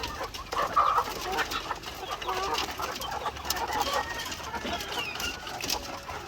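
Chickens on a farm clucking and calling at close range, a busy overlapping chorus of clucks and short squawks against faint outdoor background noise, with no talking.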